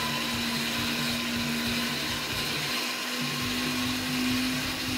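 Steady loud mechanical whirring with a constant hum from hand-cranked 3D-printed plastic gears spinning fast, continuous throughout with no talking.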